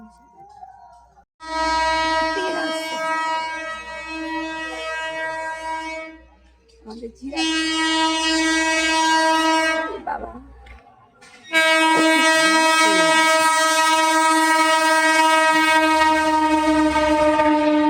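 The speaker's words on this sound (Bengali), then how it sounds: "আমার স্টেশনে এসে এখন ট্রেন আসবে।" A train arriving at a station sounds its horn in three long, loud, steady blasts separated by short pauses, close by, with rumbling rail noise and a brief voice underneath.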